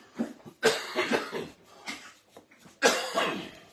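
Several harsh coughs in quick bursts, close and fairly loud, with short pauses between fits and a final strong cough near the end.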